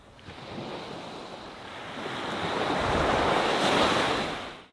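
Sea waves breaking along the Jeju island coastline, a steady broadband surf roar that swells louder toward the end, with some wind buffeting the microphone and no voices.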